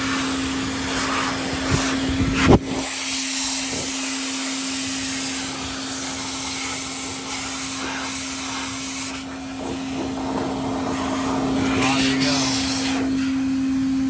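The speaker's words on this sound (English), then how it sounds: "So blowing this air on it, I was able to pretty easily open up those little back vents right there." Compressed air blasts steadily onto the dusty coil of a Samsung refrigerator, a loud continuous rushing hiss with a steady hum, a sharp knock partway through and brief dips in the airflow.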